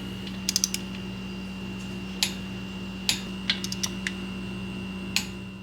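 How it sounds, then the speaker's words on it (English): A torque wrench tightens a brake caliper bolt on a 2007 Toyota Highlander Hybrid during a front rotor and brake pad job. A few sharp, irregular mechanical clicks stand out over a steady low hum. "torque this bolt down to 25 foot-pound"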